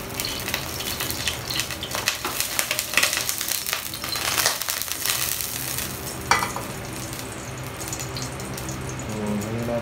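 Beef sizzles and fries in hot oil in a pan, a steady close crackle with occasional stirring scrapes and clatters, no talking.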